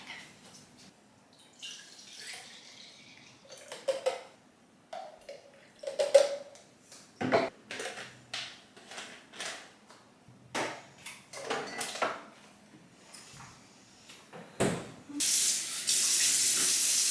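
Tap water runs into a kitchen sink while baby bottles are washed, heard as irregular splashing and clinking bursts at close range, ending in a steady loud gush of running water.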